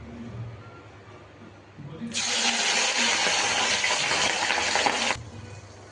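Boiled chicken pieces dropped into about half a kilo of hot oil for a chicken pickle burst into a loud, steady sizzle that fills the middle stretch, then cuts back to a quiet bubbling.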